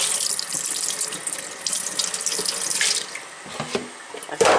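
Hot water runs from a tap in a continuous splashing rush, close and fairly loud, with a few brief bumps and shifts in flow before it ends abruptly.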